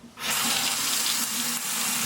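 Cold water gushes from a bathroom faucet into a sink, starting abruptly after a brief quiet moment and then running steadily and loudly.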